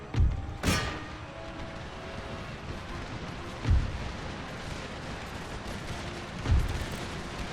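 Deep, booming artillery and musket volleys from a battle in the strategy game Empire: Total War thud at spaced intervals over a steady low rumble of distant fighting.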